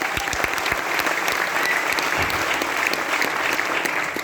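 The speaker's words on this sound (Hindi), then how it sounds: "तो इसके लिए एक बार जोरदार तालियां।" Audience applause at a business plan presentation, a steady dense wash of many hands clapping that holds evenly loud from start to finish.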